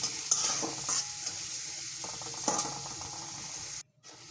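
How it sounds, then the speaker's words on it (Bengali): Chopped onions sizzle in oil in a wok for a mutton bhuna, with a steady bright frying hiss and several clacks of a spatula stirring. The sizzle is close and continuous, then cuts out abruptly near the end. "কড়াইতে আমি পেঁয়াজ কুচি দিয়ে দিলাম আর পরিমাণ মতো তেল দিয়ে কিছুক্ষণ নেড়ে চেড়ে পেঁয়াজের কাঁচা গন্ধটা দূর করে নেব"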